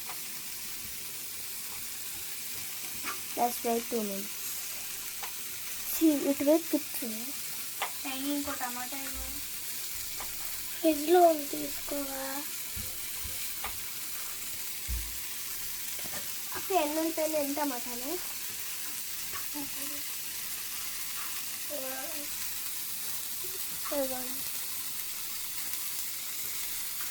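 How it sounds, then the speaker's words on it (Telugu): Food fries in a pan for shawarma, bursts of sizzling and stirring rising and falling over a faint background while people talk intermittently in Telugu. "ఇప్పుడు ఈ ఫ్రై అవుతున్నాయి."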